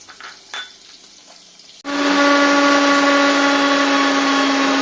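A kitchen mixer grinder spinning dry poppy seeds, starting abruptly after a quiet pause and then roaring at a loud, steady whine that holds to the end.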